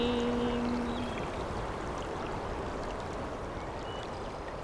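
Water flowing in a stream through a valley, a steady broadband rush with no speech, briefly overlaid at the start by a faint tonal hum that fades within the first second.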